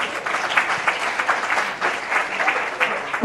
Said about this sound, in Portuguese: Pode bater palmas se quiser.